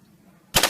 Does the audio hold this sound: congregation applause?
no